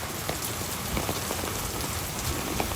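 Steady rain falls at Disney's Wilderness Lodge resort during hurricane season, a dense even patter of drops hitting surfaces close by, continuous and unbroken with no voices.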